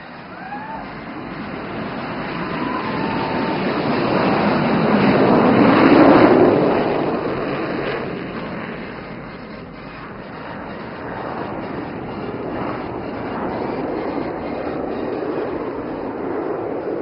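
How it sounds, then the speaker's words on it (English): Three IAF military jets in Vic formation take off at the Aero India 2025 air show, a broad roar swelling to a loud peak and then easing into a steady distant rumble, with no talk. "Here comes the first Vic takeoff with number 1 flanked by number 2 and 3 leaving the runway."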